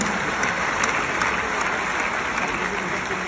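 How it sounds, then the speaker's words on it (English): An audience at the CAF awards ceremony in Morocco claps hard and without a break, a dense, even wash of applause filling the room with no voices over it. "Can we clap hands for the people of Morocco?"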